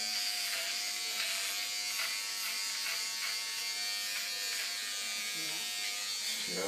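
A Gillette ProGlide Styler electric trimmer buzzes steadily and close up while trimming a beard, its high whirring tone continuous throughout with slight variations as it moves over the hair.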